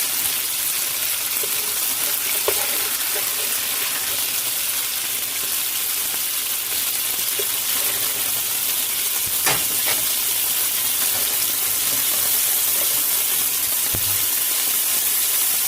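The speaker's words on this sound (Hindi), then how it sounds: "इस तरह से हमने ये पीसीस के भी फ्राई कर लिए।" Chicken pieces fry in hot oil with a steady, close, hissing sizzle, broken now and then by a brief pop or utensil clink, with no voices.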